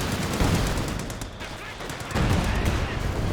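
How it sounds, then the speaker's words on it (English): Heavy mortar strikes landing in the strategy game Company of Heroes 2, dull booming impacts and scattered gunfire in a loud battle mix, with a commentator's voice over the top. "We've got some heavy mortar hits coming down now as well through the center."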